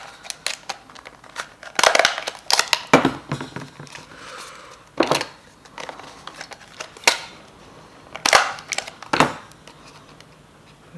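A staple gun fires sharp, irregular snaps into a browband, mixed with scattered crinkling and handling noises up close, with no speech.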